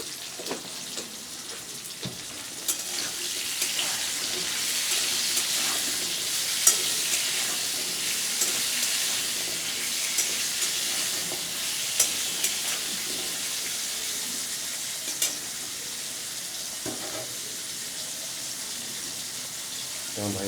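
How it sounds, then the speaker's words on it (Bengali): Potato and pumpkin pieces frying in a home kitchen pan for a vegetarian curry, a steady sizzle with occasional clicks and scrapes of stirring. "আলু আর কুমড়োগুলো যত তাড়াতাড়ি ভাজা হয়ে যায়"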